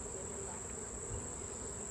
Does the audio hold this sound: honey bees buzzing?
yes